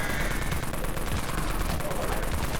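The Dawn Mag fires in the video game Dead Frontier, a dense, unbroken stream of rapid gunfire that stays loud and even across the whole stretch.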